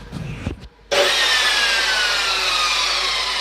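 A power saw fires up from cold after a short clunk and rustle, then runs at a loud, steady high-pitched whine that continues without letup, close by.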